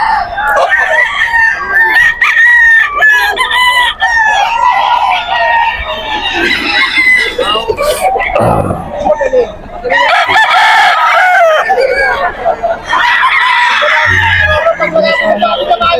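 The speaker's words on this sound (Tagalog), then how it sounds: "Ayun, dami manok ko." Fighting roosters at a gamecock market in Bocaue, Bulacan crow loudly and repeatedly, with clucking and overlapping calls from many birds close by, while people's voices murmur underneath.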